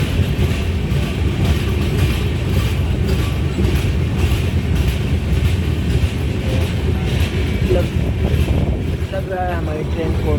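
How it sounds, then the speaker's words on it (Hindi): A train running through the 24-kilometre ghat section between Betul and Itarsi in the Nagpur division gives a steady, loud rolling rumble with rhythmic wheel clatter that fills the whole stretch. A few squealing tones rise near the end. "लग रहा है हमारी ट्रेन को रोका जाएगा यहाँ पे, एक अनशेड्यूल्ड हॉल्ट एक बार फिर से।"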